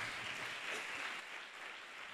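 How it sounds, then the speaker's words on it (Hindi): A congregation at a youth meeting in Mumbai claps hands in a dense, sustained burst of applause that thins slightly toward the end, with no voices on top. "ताली बजा के परमेश्वर को धन्यवाद दें."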